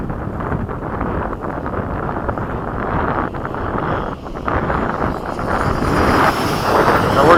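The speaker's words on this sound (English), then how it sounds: "The wind is crazy." Strong wind buffets the microphone in a steady, loud broadband roar at an airfield near an F-16 and a Yak-130, swelling slightly toward the end with no clear speech over it.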